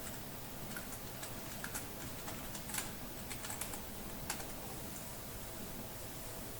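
Quiet computer keyboard typing and clicking during a Tableau workshop, scattered light keystrokes over a faint steady room hiss, no talking.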